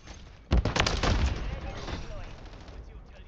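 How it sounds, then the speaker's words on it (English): A sentry gun in Modern Warfare 3 multiplayer opens up with a sudden burst of sharp automatic shots, loud at first and then trailing into quieter, scattered firing, with a voice speaking over it. "Fucking sentry gun."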